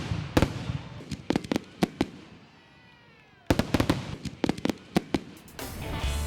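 Fireworks grand finale at a city centennial celebration, a rapid series of loud booms and sharp pops with crackling between them, building to dense continuous bursts at the end.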